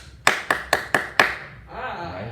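Hands clap out a rhythm in an aural skills class, with five sharp, evenly spaced claps, close and distinct. A brief voice follows.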